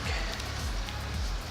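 Steady rain falls outdoors on a roadside, a dense close hiss of drops with low rumbling underneath, continuous and even without any voices.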